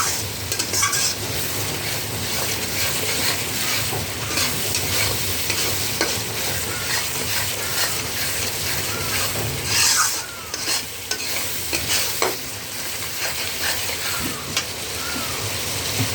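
Chicken fries in a spice masala with a loud, continuous sizzle, stirred with repeated scraping strokes and light clinks against the pan, nearby with no one speaking.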